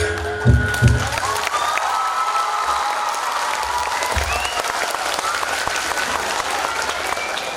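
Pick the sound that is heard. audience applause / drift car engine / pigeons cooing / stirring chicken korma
audience applause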